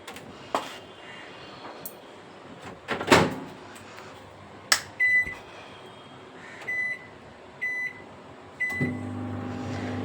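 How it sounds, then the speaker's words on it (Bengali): A microwave oven started to reheat rice: a door shuts with a thump, several short beeps follow, then a low steady hum as it begins running, close in a quiet home kitchen. "চালিয়ে দিলাম মাইক্রোটা একটু ভাতটা গরম করে নিই"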